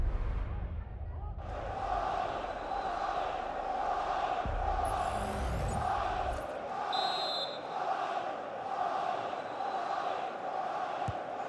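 A stadium crowd roars in FIFA 23 during Arsenal versus Tottenham, a sustained swelling chant and cheer with a few whistles, a commentator's voice heard over it.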